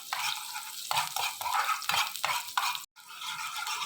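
Finely chopped onion frying in a pot for lentil soup: repeated scraping strokes of a spoon stirring against the pot, with a soft sizzle underneath and a brief pause near the end.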